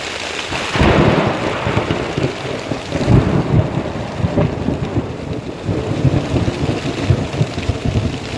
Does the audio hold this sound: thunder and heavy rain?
yes